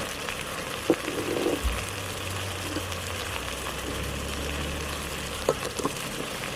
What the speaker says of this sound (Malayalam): ഇഞ്ചി വെളുത്തുള്ളി പേസ്റ്റ് ചേർത്ത് കൊടുക്കാം